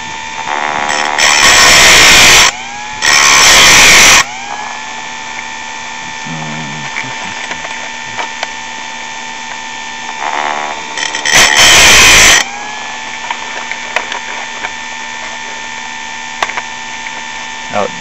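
A chainsaw chain is sharpened with an electric power sharpener: a motor whines steadily while the grinding wheel touches the chain in several short, loud bursts, with quieter mechanical clicks and handling between passes.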